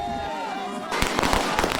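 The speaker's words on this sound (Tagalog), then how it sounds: "Naglalakasan ng mga paputok at napuno ng pulbura ang ere." Firecrackers and fireworks burst loudly and repeatedly during a New Year's midnight street celebration in Tondo, a dense crackle of pops building after a whistling rise, with crowd noise underneath.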